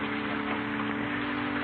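Steady rain falls over a park on church grounds, a constant even hiss with a low hum beneath it and no voices.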